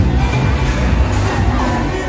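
Loud night crowd on Fremont Street in Las Vegas, a dense, continuous roar of many voices with scattered shouts and whoops, steady throughout with no pauses.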